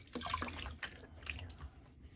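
Cold water runs from a tap during a wet-shaving rinse, a steady splashing stream with a few brief drips and spatters, close by and moderately quiet, with no talking.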